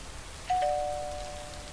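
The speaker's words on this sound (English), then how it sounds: "I'm going to ring the bell again because nothing's going to happen." A doorbell rings once in the video game Lake: two clear sustained tones, one just after the other, ringing out and fading slowly over a faint background hiss.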